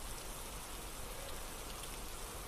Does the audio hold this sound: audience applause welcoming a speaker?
no